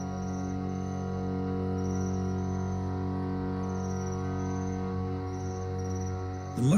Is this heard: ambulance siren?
no